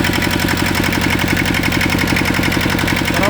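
Steady idle of a 16 hp two-cylinder ISEKI mini tractor engine, close and loud, with an even rapid pulsing rhythm that holds unchanged throughout.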